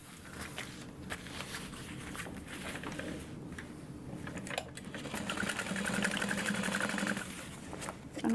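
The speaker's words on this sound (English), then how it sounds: "we're just gonna sew along the left and the right of that pocket to close it off" A sewing machine stitches down both sides of a tote bag pocket with a steady rapid mechanical chatter that grows louder and denser in the second half, close up and uninterrupted.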